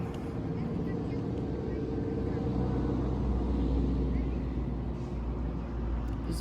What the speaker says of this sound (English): There's a busy road by us, so those are trucks you hear coming into town.